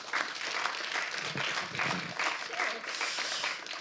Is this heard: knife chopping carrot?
no